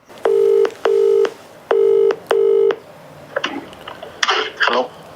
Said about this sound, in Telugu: ఆయనతో ఒకసారి ఫోన్ లైన్లో మాట్లాడి తెలుసుకుందాం